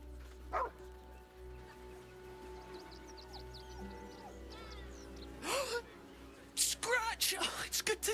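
A dog in a video game barks a few times, with sharp yips and short bursts late on, mixed among game voices talking and background music.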